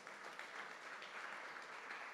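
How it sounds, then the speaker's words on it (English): An audience at a church sermon breaks into applause, a quiet, steady patter of many hands clapping from a distance without any voices over it. "I know your applause is for my wife."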